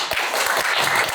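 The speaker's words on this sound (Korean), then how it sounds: "다시 한번 큰 박수 부탁드리겠습니다" Brief burst of audience clapping for a university lecturer after a special lecture at a forum, a dense patter of many hands lasting about a second.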